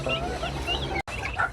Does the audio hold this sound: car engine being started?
no